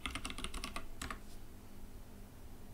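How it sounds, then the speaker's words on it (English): A password is typed on a computer keyboard with quick, faint key clicks in a brief burst, a final tap, then quiet room tone. "Restore and type in the password."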